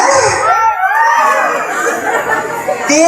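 A pageant crowd at Miss Gay Villa Miranda 2025 shouting, cheering and chattering loudly and continuously, with a few higher cries standing out from the mass of voices.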